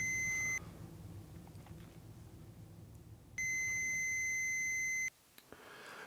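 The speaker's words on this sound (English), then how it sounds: "When the meter buzzes, I know the wires are from the same set." A multimeter's continuity tester sounds while checking wires between junctions, two steady high-pitched electronic beeps, one brief and one lasting nearly two seconds, heard close and loud against a low background hum.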